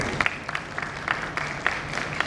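Audience applause after a keynote at the DDX Asia 2025 event, a steady patter of many hands clapping close by, moderately loud and continuous, with no talk over it.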